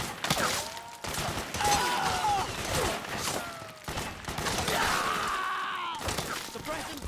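Sustained bursts of gunfire in a Metal Gear Solid 4 battle, loud and continuous with sharp cracks and shattering, soldiers' voices shouting beneath the shooting.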